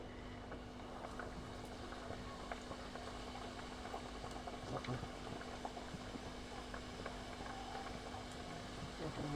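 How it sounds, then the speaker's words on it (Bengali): Snack pieces fry in hot oil, a steady bubbling sizzle that stays fairly faint and even throughout while someone talks over it. "আমি এখন একটা একটা করে তেলে ছেড়ে দেব"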